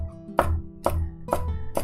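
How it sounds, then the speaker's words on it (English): Knife chopping on a cutting board while making Chinese dumplings: four sharp, evenly spaced chops about half a second apart, close and clear over a quiet steady hum, with no talking. "I hear you and the chopping very well"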